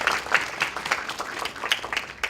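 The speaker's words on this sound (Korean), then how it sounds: "우리 한번 같이 감사의 박수로 영광 올려드리겠습니다." A church congregation at a Sunday service claps in thanks, a brief burst of many hands with a few sharper claps standing out, fairly faint and slightly distant.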